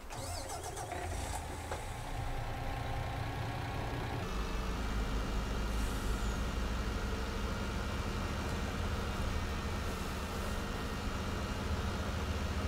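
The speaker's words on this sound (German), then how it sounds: "Wir werden einmal den nächsten LKW zum Hof fahren." A truck engine in a farming game rumbles steadily at a mid pitch, starting up and settling into a continuous drone as it drives toward the farmyard, with faint clicks and shifts over a constant low hum.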